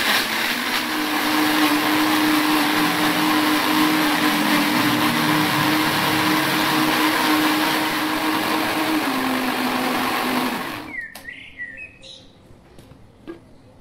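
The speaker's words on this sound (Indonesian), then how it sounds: "Semuanya di blend ya." Blender grinds garlic, shallots, candlenut, turmeric, galangal and lemongrass into a spice paste, with a steady whirring motor for about eleven seconds before switching off, followed by faint clatter.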